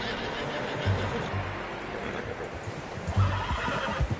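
A horse in a PS4 video game whinnies in two short bursts over muffled hoofbeats and a steady background hiss.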